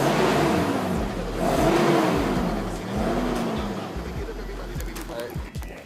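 A 1996 Toyota 4Runner V6 on its original exhaust revs up three times in close succession, each rise and fall of the engine loud and near over a steady idle.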